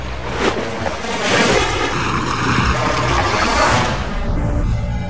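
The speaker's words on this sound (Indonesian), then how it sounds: "Ini ada pancuran kecil, jangan-jangan ini tempat air minum si nenek" A small water spout in a wild forest gives off a steady, broad rushing splash that swells and eases, fairly loud and close.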